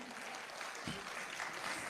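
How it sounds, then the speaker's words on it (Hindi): Applause from an audience at a humorous Hindi poetry gathering, a soft steady wash of clapping heard at some distance with no break through the whole stretch. "एक बार जोरदार ताली आप अपने लिए बजा लें।"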